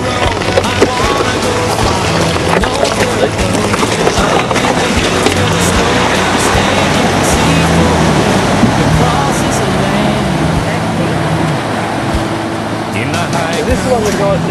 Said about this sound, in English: we're going to cross this little creek. Apparently it's deep.